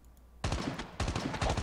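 Rapid gunfire bursts in the battle royale mode of Call of Duty Mobile, two loud clusters of quick repeated shots following a quiet moment.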